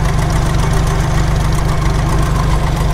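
A tractor engine idles during a spring plow day, giving a loud, steady low chugging with a quick regular knock that holds without a break, close by, with no voices.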